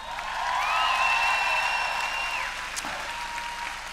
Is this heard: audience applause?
yes